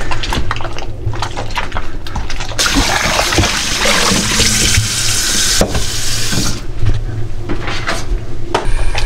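Raw octopus is scrubbed by hand under a running kitchen tap, a steady rush of water starting partway through and cutting out later, with scattered knocks and rubbing sounds around it and no talking.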